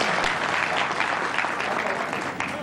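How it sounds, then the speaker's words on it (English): A lecture audience at a mathematics talk gives loud, dense applause that holds steady for the whole stretch, a continuous wash of many hands clapping with no voices on top. "you have to applaud in these settings"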